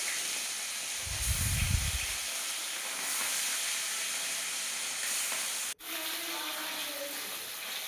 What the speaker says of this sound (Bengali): এপিট ওপিট করে লাল লাল করে ভেজে নিচ্ছে